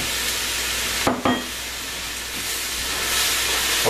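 Onions sauté in a pan for French onion soup, giving off a steady, close sizzle and hiss, broken by a couple of brief utensil clanks early on.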